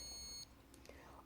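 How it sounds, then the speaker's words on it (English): A cochlear implant sound processor gives a steady high beep for under half a second, warning that its coil is not attached, followed by faint room noise. "It'll beep, a constant red beep."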